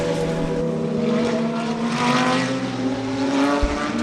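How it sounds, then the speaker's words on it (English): Nissan GT3 race car at full speed in an Extreme SuperCars race, chasing a Porsche, its engine a loud sustained roar with strong steady harmonics throughout. "He is sending that Nissan in full flight at the moment to try and catch the Porsche right in front of him."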